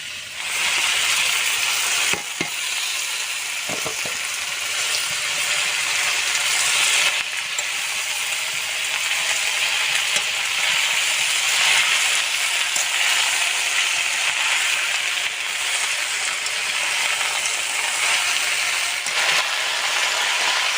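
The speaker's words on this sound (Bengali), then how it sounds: "সবজিগুলো সুন্দর করে ভাজা হয়ে গেছে, পুঁই শাকটা দিয়ে দেবো সবজির ভেতরে।" Steady, even sizzling of mixed vegetables frying in a pan with Malabar spinach (pui shak) stirred in, a constant hiss with a few faint clinks.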